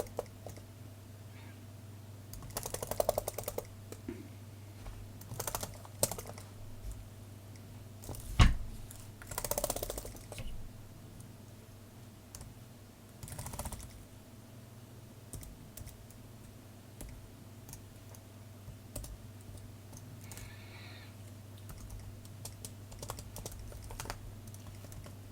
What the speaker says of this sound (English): So we're gonna check if our keys are working.